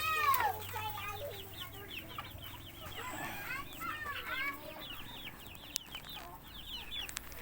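Pet chickens in a poultry house bedded with rice hulls keep up steady overlapping clucking and chattering, close and moderately loud, with a few sharp knocks near the end.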